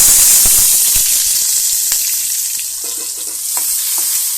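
Onion, half a tomato and green chilli sauté in a pan with a loud, continuous sizzle. Repeated spoon strikes and scrapes from stirring punctuate it, strongest early on and again toward the end.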